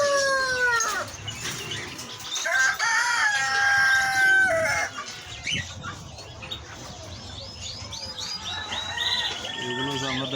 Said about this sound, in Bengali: তারপর মরক, সব জাতের মরক পাওয়া যায়।